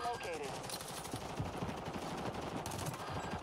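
Gunfire in the Warzone 2 video game, dense rapid automatic shots crackling continuously and fairly loudly throughout, with a mix of bursts and scattered reports.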